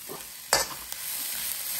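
About a cup of chopped cabbage stir-fried in a pan, a steady close sizzle broken by a sharp scrape and stir.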